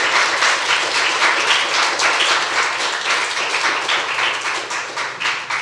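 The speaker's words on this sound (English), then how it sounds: "I want to give you a round of applause again." An audience at a conference session on artificial intelligence gives a sustained round of applause, dense, even clapping from many hands filling the room for several seconds without a break.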